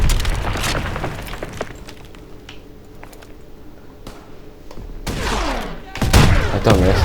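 Rapid bursts of gunfire and booming explosions fill a World War II shooter game, with heavy blasts clustered near the start and end amid continuous battle noise and a speaking voice.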